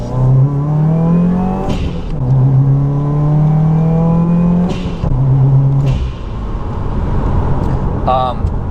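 A 2015 Subaru WRX fitted with a lightweight flywheel revs in quick repeated rises and falls during rev-matched downshifts, its engine note climbing and dropping sharply and continuously, close and loud.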